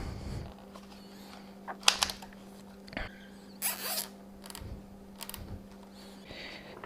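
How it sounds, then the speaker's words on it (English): Zip ties being ratcheted tight on a Yamaha XT250 motorcycle, several quick faint zipping clicks scattered over a low steady hum in a quiet workshop. "finalize the rest of these zip ties"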